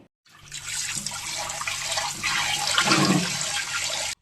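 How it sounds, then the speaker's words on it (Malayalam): Raw plantains are washed under flowing water, a steady rushing splash that starts abruptly, swells slightly midway, then cuts off, close and with no voices. "ചേരിയൊക്കെ വെച്ച് നല്ല വൃത്തിയിൽ കഴുകി എടുക്കുന്നുണ്ടേ"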